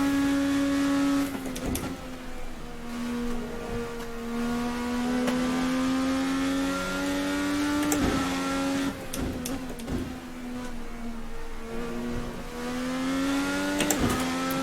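A 1999/2012 IndyCar Formula NA race car in a driving simulator revs and shifts through gears, its engine note climbing and dropping repeatedly with sharp gearchange clicks, loud and steady throughout.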